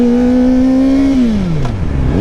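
A Kawasaki ZX-4RR 400cc sport bike engine, 40th Anniversary Edition, heard up close and loud as a high steady rev that holds, then drops smoothly in pitch as the throttle closes.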